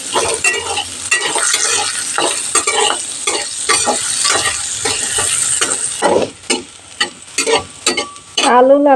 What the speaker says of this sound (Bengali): মিডিয়াম সাইজের আলু নেড়ে দিলাম আলু ভেজে নেব